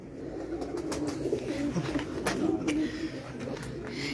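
Breeder pigeons coo softly and repeatedly in a loft, low murmuring calls nearby under steady background noise, with brief sharp clicks.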